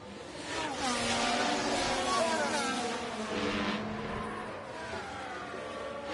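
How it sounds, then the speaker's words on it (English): Formula 1 race car engines from the video game F1 Manager 24 hum in the background, a distant layered whine with rising and falling pitch, moderately faint and steady throughout. "This is background engine car noise that we can hear."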